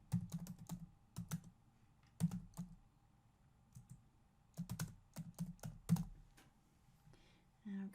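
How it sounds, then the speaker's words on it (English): Several close bursts of typing on a computer keyboard, crisp clustered clicks separated by short pauses, with no voices over them. "And let's type specials this month."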